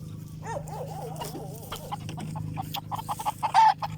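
Chickens cluck in quick rising calls close by over a steady low hum, while a dog makes short rough bursts near the end, outdoors in a natural rural setting while animals are walked.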